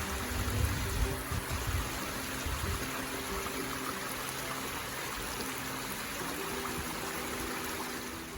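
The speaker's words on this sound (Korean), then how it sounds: "대박 물소리" Steady rushing of flowing mountain valley stream water, continuous and fairly close, with no voices over it, on Namsan mountain in Gyeongju.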